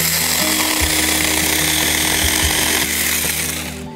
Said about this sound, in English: that is the Seika 18 volt chainsaw, handheld, pretty good machine